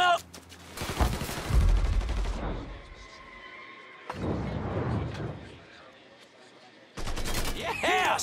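Bursts of gunfire during a shootout in the video game Mafia III, with rapid volleys of shots, a quieter stretch between them and another loud burst at the end, a voice briefly heard in the mix.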